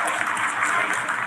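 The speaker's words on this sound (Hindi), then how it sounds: "Lot of applause indicates that till now the performance has been nominal." Steady, even applause fills a mission control room during the Chandrayaan-3 landing, sustained clapping from many people with no voices over it.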